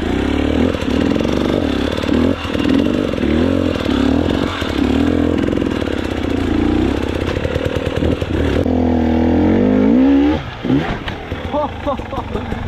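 Motorbike engine running steadily while riding, loud and continuous throughout with slight shifts in pitch, rougher toward the end.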